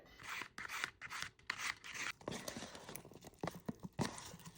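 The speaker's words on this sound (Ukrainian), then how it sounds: "Желе повністю застигло, зараз поріжу їх на кубики." Set gelatin jelly is sliced into cubes with a knife on a board, giving a run of soft, close scraping and tapping cuts that come in irregular bursts with brief pauses, with no talking.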